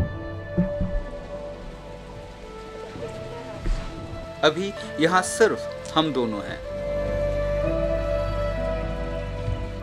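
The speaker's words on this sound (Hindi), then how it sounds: "बारिश की आवाज" Steady rain patters in a forest in East Sikkim while a person speaks quietly in Hindi, with some scattered sharper sounds in the middle before the rain swells louder.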